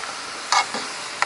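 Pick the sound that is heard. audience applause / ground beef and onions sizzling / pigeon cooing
ground beef and onions sizzling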